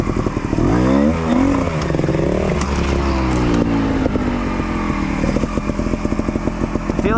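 Motorcycle engine ridden off-road through trial gates over rocks, close and loud, revving and rising in pitch, then settling into a rough, uneven chug with clattering.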